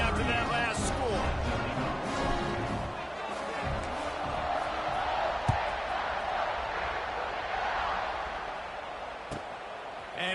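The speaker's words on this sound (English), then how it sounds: "this crowd is buzzing after that last score" A football stadium crowd buzzes after a touchdown in a college football video game, a dense, steady roar of many voices that holds throughout with a few faint thuds and shouts rising out of it.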